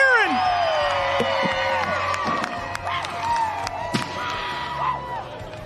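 A crowd cheers, whoops and shouts loudly at a STIHL Timbersports competition, with whistle-like calls and scattered claps, and a voice talks under the noise.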